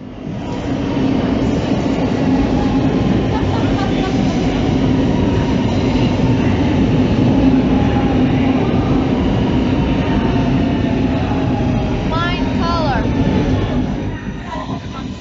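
A train rumbles steadily and loudly as it pulls in at the Milan Cemetery stop in Milan, with a brief squeal of wheels near the end.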